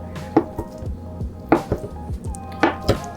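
Knife cutting tofu into small even cubes on a board, three distinct firm chops spaced about a second apart, each followed by softer taps and squishy contact sounds, close and clear.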